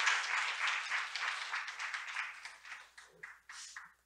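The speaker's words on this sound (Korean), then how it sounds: "다시 한번 박수 부탁드립니다" Audience applause at a literary forum session, brisk clapping from a modest crowd that holds steady, then thins into a few scattered claps before stopping, fairly quiet.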